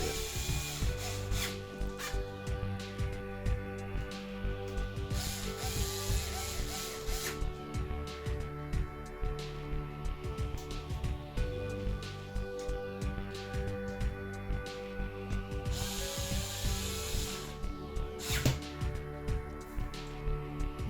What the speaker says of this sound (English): screw the 3 screws in that are holding the lid.